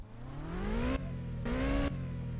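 Car engine in a video game revving in two quick rising pulls, each pitch sweep climbing then dropping back to a steady idle, loud and close with no talk.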